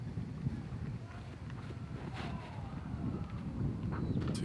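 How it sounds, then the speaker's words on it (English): Wind gusts across an outdoor disc golf course during a tournament final, producing low buffeting rumble against the microphone that swells and eases unevenly, with faint scattered background sounds. "You can hear the wind gusting."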